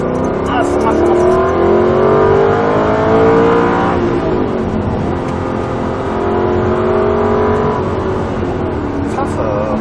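An Aston Martin V8 Vantage accelerates at full throttle during sprint racing at the Croix-en-Ternois circuit, its loud V8 note climbing in pitch, dropping at a gear change, then climbing again, while a voice talks over the engine inside the car.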